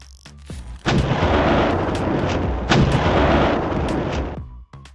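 A Polish AHS Krab 155mm self-propelled howitzer fires: two heavy, close booming blasts, each followed by a long rolling roar that fills the clip, with no talking.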